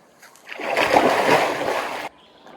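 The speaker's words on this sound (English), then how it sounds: "Just don't splash around too much." Water splashes in a creek for a burst of about a second and a half, a close, loud sloshing churn that starts abruptly and then cuts off.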